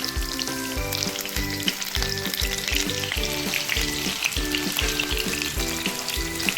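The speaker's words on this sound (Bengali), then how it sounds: "আর একটা লটও দিয়ে দিয়েছি, এটাও একটু গোল্ডেন ফ্রাই হবে" Chicken meatballs, or kofta, sizzle and crackle steadily in hot oil while frying golden, a dense continuous fry with repeated stirring scrapes and clinks throughout and no talk.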